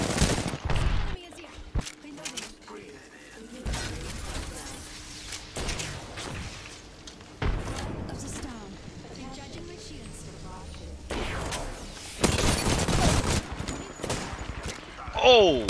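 Rapid gunfire in Apex Legends, bursts of automatic shots and single cracks rattling in clusters across a battle, loud and close, with players talking over the shooting.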